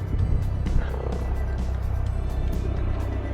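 An Arrma Senton 3S RC car runs at full throttle, a steady, loud motor whine with tire and chassis noise holding for the whole stretch, with outdoor background.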